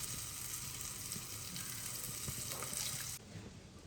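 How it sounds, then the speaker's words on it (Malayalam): Coconut oil hits a hot pan and sets off a steady, hissing sizzle that runs at an even level for a few seconds, then drops quieter near the end. "ഇതിലേക്ക് ഇനി നമുക്ക് വെളിച്ചെണ്ണ ഒഴിച്ചു കൊടുക്കാം"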